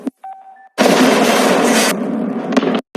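A sudden loud explosion in a film bursts in after a brief pause, roaring with dense crackling noise for about two seconds before cutting off abruptly.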